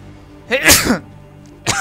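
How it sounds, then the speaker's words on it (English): A single sharp sneeze from a person bursts out near the mic against quiet game background sound, followed by a short intake and another brief noise at the end. "I sneezed."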